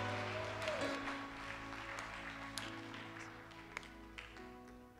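A church congregation claps together in praise, a steady wash of applause that fades gradually, with a held organ or keyboard chord ringing beneath and a few louder individual claps near the end.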